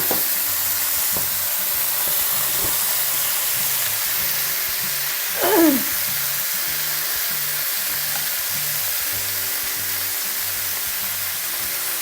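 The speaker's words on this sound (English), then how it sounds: "So what we're trying to do is to get a nice sear." Beef rolls searing in hot oil in a pan, a steady close sizzle and hiss throughout with one brief louder spatter midway, no talking.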